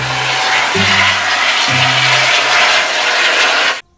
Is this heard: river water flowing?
no